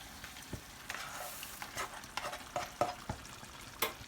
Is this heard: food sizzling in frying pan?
yes